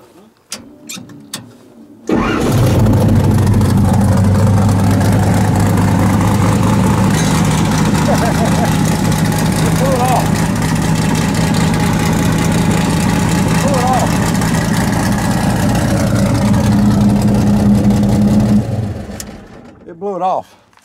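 A motorcycle fitted with a bullet muffler starts up and runs loud and close for most of the clip, holding a deep steady idle with slight revs and a rougher patch near the end before it shuts off, as someone talks over it.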